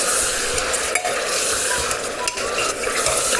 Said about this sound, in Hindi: अब हम मटन को भूनेंगे।